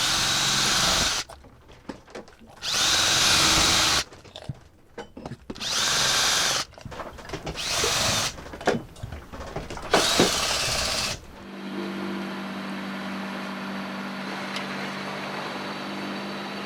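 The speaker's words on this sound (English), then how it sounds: "So I'm gonna drill this." A cordless drill running on battery power aboard a sailboat mid-Atlantic whirs loudly in several bursts of a few seconds each, with short pauses and clatter between, then a steady background drone.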